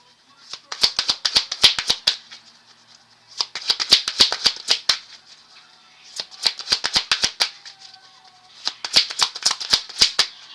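Playing cards riffle-shuffled in four quick bursts, each a rapid run of crisp flutters separated by short pauses, close and clear.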